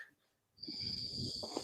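A man snoring during a live online group discussion, picked up through a microphone: after a brief quiet moment, one long, steady rasping snore breath sounds close and fairly loud, with no talking over it.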